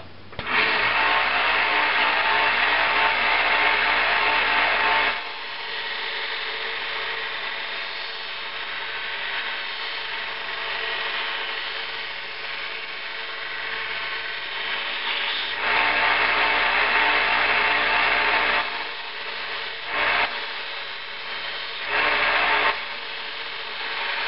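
A cheap 1x30 belt sander grinds a steel knife blade with a coarse 80-grit belt, a loud continuous whir and scrape that drops back and surges again as the blade is pressed on and lifted off.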